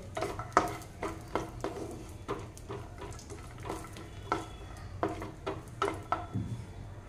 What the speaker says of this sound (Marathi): हे असे सारखे मिक्स करत राहायचे, जेणेकरून खाली करपायला नको आहेत। आणि तुपामध्येच भाजायचे